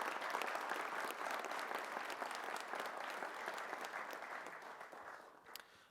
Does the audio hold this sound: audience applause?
yes